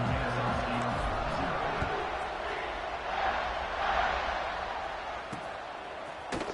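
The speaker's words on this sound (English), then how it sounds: "this crowd is buzzing after that last score" Broadband crowd murmur fills a college football video game stadium, Kennesaw State Owls at UCF Knights, steady and moderately loud, swelling slightly mid-way, with faint tonal bits and a few thuds layered underneath.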